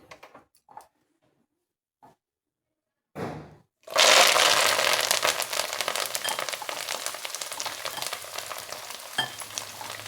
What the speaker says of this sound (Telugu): ఇప్పుడు ఇందులో మనం పుదీనా ఫస్ట్ వేసి కొంచెం ఫ్రై చేసుకోవాలి